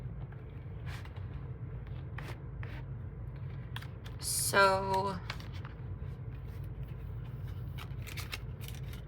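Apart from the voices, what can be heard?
shuffling playing cards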